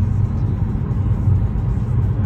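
A car drives through a long mountain tunnel near Bitlis in Turkey, making a steady, loud low rumble of road and engine noise that carries on evenly from start to finish.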